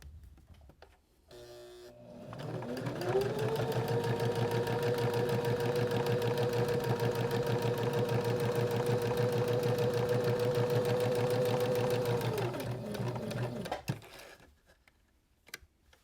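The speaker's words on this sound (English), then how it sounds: "Now we're ready to top stitch the top edge of our pocket just to reinforce it." Sewing machine running a straight topstitch along the folded top edge of a fabric pocket, a steady close whir with rapid needle clatter lasting about ten seconds after a short start, then stopping.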